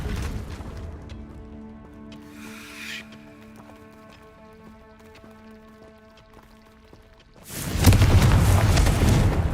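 A Confringo fire spell explodes in a video game. A loud, broad burst of fiery blast arrives suddenly near the end, following a quieter stretch of sustained magical tones and a brief hiss.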